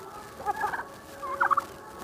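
Turkeys gobble in two short bursts while being fed, close by and fairly loud, with quiet background between calls.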